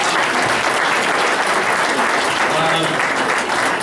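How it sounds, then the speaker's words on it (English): Steady, dense applause from the audience at a school board of education meeting, loud and continuous for a few seconds with some voices mixed in. "Round of applause for everybody again."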